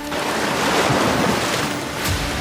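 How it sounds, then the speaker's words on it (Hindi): Sea waves near the Jagannath Temple in Puri give a steady, dense roar of surf, loud and continuous like wind, with no voices. "वैसे ही समुद्र की लहरों की आवाज स्पष्ट सुनाई देने लगती है।"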